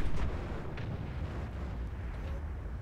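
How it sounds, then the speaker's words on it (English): Artillery fire in the World of Tanks video game: a few dull booming impacts, the strongest right at the start, then scattered softer blasts over a low rumbling battlefield bed, with no voices. "A lot of artillery this match."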